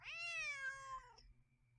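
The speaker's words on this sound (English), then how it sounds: "Otherwise, he'll just keep meowing." A single clear cat meow from the video game Nancy Drew: Secret of the Old Clock, a drawn-out falling call of about a second over a quiet low hum, with no talk.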